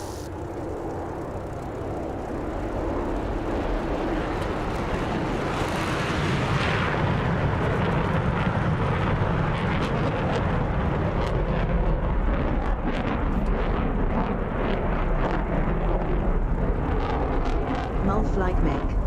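A jet aircraft rolls and lifts off in the DCS flight simulator, a loud continuous engine roar with rushing broadband noise that builds and holds throughout, steady and close with no clear breaks.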